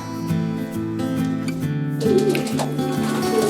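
Jansen racing pigeons in a loft, with low, steady cooing in repeating phrases close by, continuous throughout with some faint rustling and higher calls in the later part.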